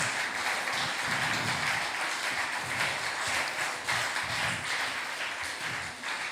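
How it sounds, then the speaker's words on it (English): Congregation clapping together during an evening church service, a dense, sustained wash of applause from many hands, steady and fairly distant throughout. "give a clap offering for God tonight"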